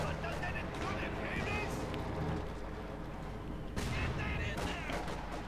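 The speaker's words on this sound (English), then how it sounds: "More fire going down, mortar rounds going in." Mortar rounds and artillery fire in the Company of Heroes 2 strategy game, a dense continuous barrage of booms and gunfire under steady commentary, with a sharp louder burst near the end.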